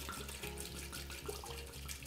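Dry white wine poured into a pot of seafood risotto with mussels, a steady continuous liquid splash and trickle held at an even level throughout.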